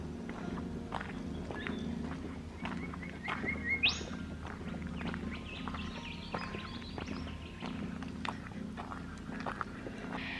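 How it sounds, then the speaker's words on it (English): Wild birds in a Perth hills bush reserve during mating season, with scattered chirps and one sharp, bright call standing out over steady footsteps crunching along a trail outdoors. "there's lots of birds out. And they're very loud"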